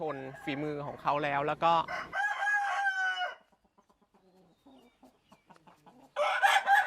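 A rooster crows loudly a few times, followed by softer clucking and scratching of hens, then another crow near the end.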